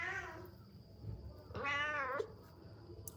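A cat meows twice indoors, a drawn-out wavering cry followed by a louder, higher one, fairly close but at modest volume against a quiet background.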